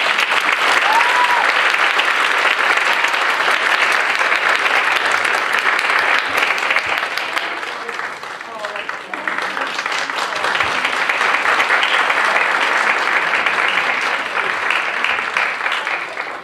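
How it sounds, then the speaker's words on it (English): A school audience applauds a fourth and fifth grade vocal concert for the kids, sustained dense clapping that dips briefly midway then swells again, filling the hall for over sixteen seconds. "So one more round of applause for the kids."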